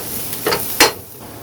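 Onion fries in a pan with a steady close sizzle, broken by a couple of quick scraping stirs as it is tossed around.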